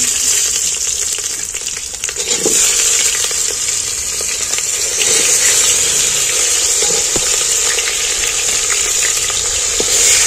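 Chopped onions drop into hot oil with cloves and cinnamon while mutton cooks, producing a loud, continuous close sizzle with occasional sharper spits and stirring scrapes.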